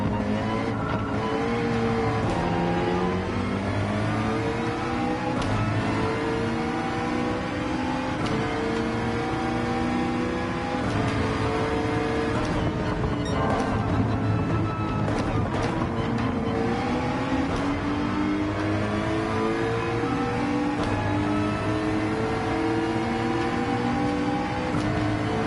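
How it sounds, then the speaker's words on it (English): Racing car engines in Gran Turismo 7, one car running right alongside, loud continuous revving and gear-shift sweeps rising and falling, dense and close throughout. "I can use my ears to know that I've got a car right on my passenger door."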